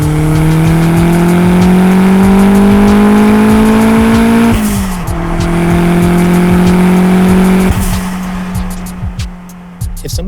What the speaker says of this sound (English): It just spools so fast and holds the boost all the way up to the red line.